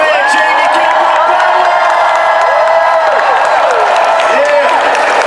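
A large audience cheers, whoops and claps loudly and continuously for a convention guest, with excited shouts rising above the steady roar.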